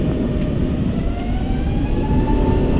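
Airbus A380 jet engines roar at takeoff thrust on a rainy night, a dense, loud, continuous rumble with steady broadband hiss and no voices.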